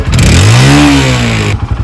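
A motorcycle engine revs hard as the throttle is opened by a learner rider, a loud close pitch rising and holding for about a second before dropping back toward idle.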